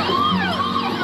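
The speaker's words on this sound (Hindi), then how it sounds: "जब भी आप रोड पर पैदल या फिर कोई गाड़ी लेकर निकलें और आपको एक एम्बुलेंस दिखाई दे" An ambulance siren wails loudly and close by in a continuous rising and falling tone, with no other sounds.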